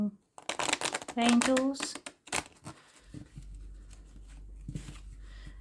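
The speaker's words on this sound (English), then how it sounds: "You would think I'd never shuffled before." A deck of slightly sticky playing cards is shuffled in short papery riffles and taps, mostly under and between a woman's speech, with a low hum rising near the end.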